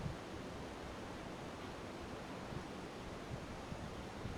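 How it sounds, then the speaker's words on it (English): Distant waterfall cascading in bushland, a steady broadband rushing roar that stays even and fairly faint throughout, with no voices. "Listen to that waterfall over there cascading."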